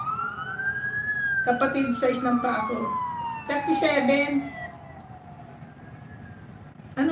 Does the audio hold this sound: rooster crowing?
no